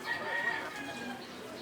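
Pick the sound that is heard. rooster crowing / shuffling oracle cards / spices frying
rooster crowing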